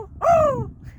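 A single crow gives one loud, close, hoarse caw that rises and then trails off, followed by quiet.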